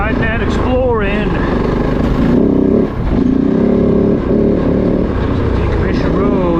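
A Kove 450 Rally dual sport motorcycle rides a rough trail of decommissioned roads in British Columbia, its engine loud and close with rising and falling revs, while a rider talks over it.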